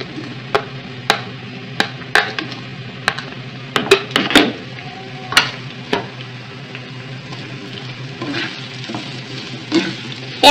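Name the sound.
onions frying in oil after okra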